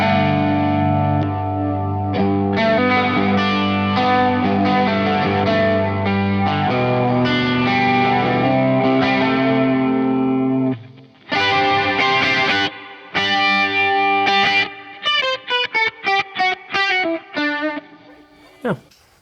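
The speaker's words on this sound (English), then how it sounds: "It was a chorus kind of sound with like some weird lo-fi-ish going things going on." Electric guitar run through a chorus pedal with a lo-fi lag effect: sustained wavering chords for ten seconds, then choppy stabs and a quick run of plucked notes, loud and alone.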